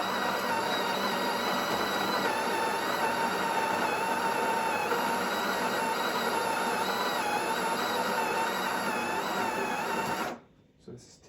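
Built-in grinder of a Breville Barista Touch BES880 espresso machine grinding coffee beans, a loud steady whirring drone lasting about ten seconds before stopping abruptly.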